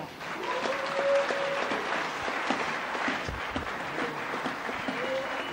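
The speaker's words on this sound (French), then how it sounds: "Si on a compris, acclamons fortement." Audience applauding in a church hall: sustained, fairly loud clapping from a crowd that swells and holds for several seconds, with faint voices and shouts mixed in.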